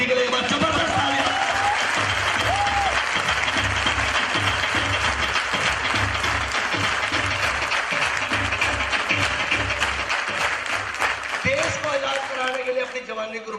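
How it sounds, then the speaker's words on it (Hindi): A crowd applauds loudly and steadily throughout, dense clapping filling the space while a voice speaks briefly over it. "और तालियां चाहूंगा, जबरदस्त तालियां"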